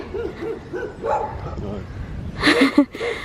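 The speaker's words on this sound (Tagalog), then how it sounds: "They're barking at us." Dogs bark in short repeated bursts, with a louder, sharper flurry near the end, over background chatter and outdoor noise.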